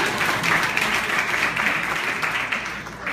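An audience claps steadily at a talk about supportive men and women's empowerment, a dense, even wash of hands that holds at full strength for about three seconds before easing slightly at the end, with no voices over it.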